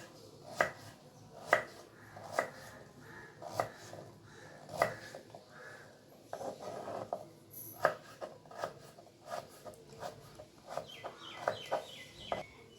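A knife chops cucumber for chutney on a cutting board in a home kitchen, about a dozen crisp, evenly spaced cuts close by, with faint hens clucking in the background.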